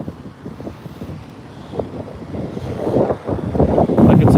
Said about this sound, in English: The wind is just mad,